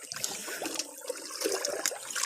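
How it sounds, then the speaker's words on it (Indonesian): A small river stream runs with a steady, close trickling and gurgling wash throughout, no voices over it. "Nah, ini sungai kecil."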